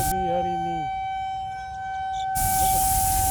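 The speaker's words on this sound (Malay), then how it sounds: "Game abandon, siren bunyi." A wailing siren sweeps downward and fades out at a rained-off game, followed by a burst of rushing noise like rain or wind.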